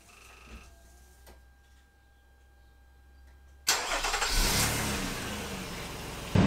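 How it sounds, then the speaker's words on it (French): A Nissan Murano 3.5-litre V6 being converted to E85 bioethanol fires up for the first time: a quiet lead-in, then the starter catches at once and settles into a loud, steady, close engine roar. "vas-y Vincent, tu peux nous faire le premier démarrage"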